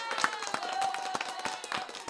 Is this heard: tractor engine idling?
no